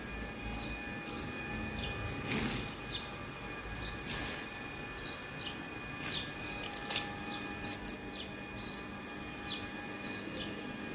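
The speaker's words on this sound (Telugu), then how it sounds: "పక్షుల కిలకిల రావాలతోటి మన శుభోదయం" Birds chirp and tweet in short bursts against a quiet outdoor hum, some calls near, others farther off.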